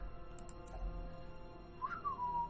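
Whistle in the video game Darkest Dungeon, a single short sliding whistle late in the clip over a low steady game background, with a few faint earlier chirps.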